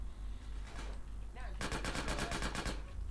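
A rapid burst of about ten evenly spaced gunshots in the video game GTA San Andreas, loud and close, after a quieter stretch with a brief voice.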